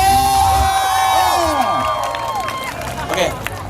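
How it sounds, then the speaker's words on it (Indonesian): An audience at a live debus and magic show in Sukabumi, West Java, cheering and whooping in a loud, continuous burst, with excited voices rising and sliding in pitch over the crowd noise. "kasih tepuk tangan dulu untuk Bang Marcel"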